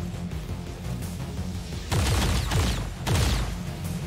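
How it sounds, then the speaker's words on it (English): Gunfire in the video game XCOM 2: two loud bursts of shots, each followed by a short rumbling tail, rising over a steady game soundtrack. "Riki, we'll take a shot now."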